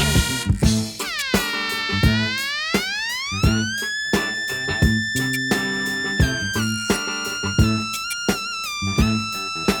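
A squelchy ARP analog synthesizer line slides upward in pitch and wobbles over a punchy funk drum beat and bass.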